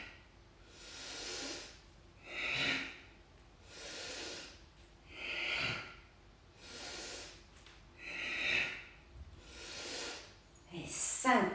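Close, audible breaths in and out come in a slow, regular rhythm during squats, with an inhale going up and an exhale going down. About six full breath cycles follow each other evenly.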